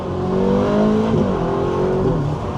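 A Ferrari hybrid hypercar in race mode accelerates hard, its engine revving in rising, shifting tones that stay loud and close, heard from inside the cabin with a window slightly open.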